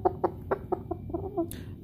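A chicken clucks close by in a quick run of short, rhythmic notes, followed by a brief higher squawk.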